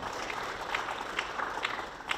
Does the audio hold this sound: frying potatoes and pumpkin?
no